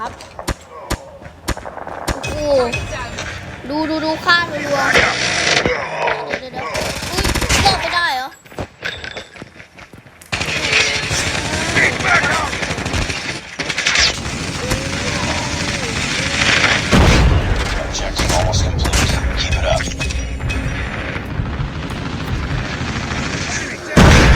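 Call of Duty gunfire crackles in dense rapid bursts and heavy booming blasts throughout, with explosions and someone talking excitedly over the shooting.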